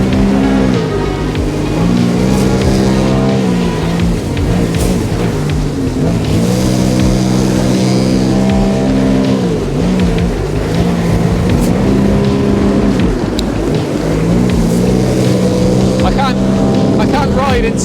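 A 1995 Sea-Doo XP jet ski engine drones steadily on a lake, its pitch rising and falling with throttle changes, close and loud throughout, with water noise beneath and occasional voices.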